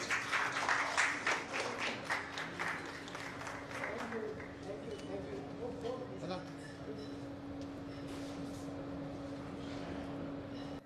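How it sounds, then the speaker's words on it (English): An audience at a business event claps to welcome a speaker to the stage, loud at first and fading into scattered clapping over a steady hum, with voices murmuring as it dies away. "with a huge round of applause, please let's welcome Anil Goel sir to the stage"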